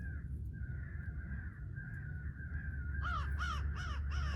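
Crows cawing during a Missouri crow hunt, a run of four or five harsh caws in quick succession near the end, heard over a steady low hum with a faint drawn-out tone earlier.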